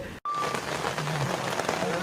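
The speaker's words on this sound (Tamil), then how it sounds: "இன்றைக்கி நல்லா மழை பெய்யுது" Heavy rain pours down steadily in a rural village in Tamil Nadu, a dense close hiss broken by a brief gap near the start, with faint voices mixed in.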